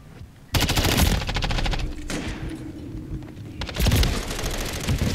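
Gunfire in the shooter game Call of Duty: Modern Warfare III, sustained automatic rifle bursts, loud and close, with a short pause midway before the firing resumes.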